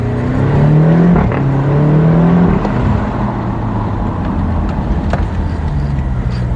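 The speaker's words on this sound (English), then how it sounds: "So you have to get the revs quite high to actually hear that exhaust note." A BMW X6 M F86 performance SUV revs hard and accelerates in first gear, its engine and exhaust note rising loudly up close for a couple of seconds, then settling into a steady lower drone.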